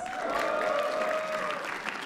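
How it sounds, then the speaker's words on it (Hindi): Studio audience at a comedy roast show clapping together in steady, dense applause that holds at an even level throughout, with a faint tonal hum underneath. "तालियां प्लीज"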